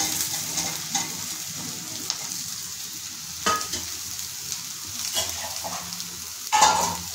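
Green banana pieces fry with onion and coconut masala in a pan, a steady close sizzle punctuated by a few sharp stirring scrapes and clinks; no voices.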